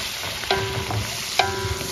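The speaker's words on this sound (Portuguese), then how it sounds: "Agora eu vou dar uma fritada aqui" Food fries on a griddle plate over a wood-burning country stove, a continuous crackling sizzle with two sharp metallic clinks of a utensil scraping the pan, close and fairly loud without talk.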